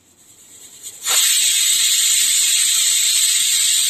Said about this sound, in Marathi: झाकण लावते आणि कुकरच्या मस्त आपल्याला 2 शिट्या काढून